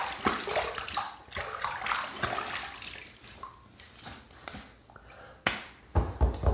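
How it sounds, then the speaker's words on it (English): Water from a tap splashed onto a face at a sink before shaving, a run of close splashing and dripping with a few louder slaps near the end. "I'm gonna throw some water on my face"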